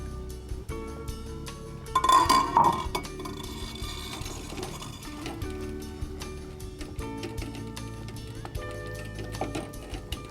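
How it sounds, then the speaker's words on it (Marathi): A metal lid clinks as it is lifted off a pot of steaming moringa-leaf bhagara on a home stove: a short, bright clatter near the two-second mark over steady background music. "आता झाकण काढते"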